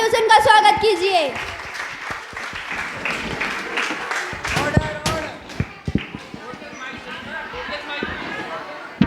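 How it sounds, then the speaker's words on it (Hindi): An audience at a cultural skit performance claps in scattered bursts while voices and music carry over the hall. "तो जोरदार तालियों से उनका स्वागत कीजिए"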